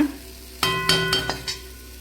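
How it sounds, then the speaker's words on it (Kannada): Close-up frying of onions and coriander leaves with a steady sizzle and a few scraping strokes of a spatula stirring through the pan. "ಕೊತ್ತಂಬರಿ ಸೊಪ್ಪನ್ನ ಹಾಕ್ಬಿಟ್ಟು ಈರುಳ್ಳಿ ಜೊತೆ ಚೆನ್ನಾಗಿ ಫ್ರೈ ಮಾಡಿಬಿಟ್ಟು"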